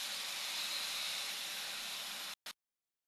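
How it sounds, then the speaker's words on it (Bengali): Spice paste of cumin, coriander, turmeric and Kashmiri red chilli powder mixed with water hits a hot pan for a potato curry, giving a loud steady hissing sizzle that cuts off abruptly, then one brief final burst. "গুলানো মশলাটা দিয়ে দিচ্ছি।"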